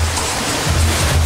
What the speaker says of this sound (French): Le vent pousse les vagues